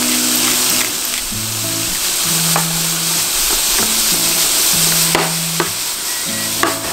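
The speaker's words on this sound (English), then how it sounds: "put in your chickpeas. Give it a nice sizzle." Chickpeas sizzle in a hot pan with salt and pepper for a vegan earth bowl, a loud steady hiss broken by occasional stirring scrapes and clinks, close up and without talk.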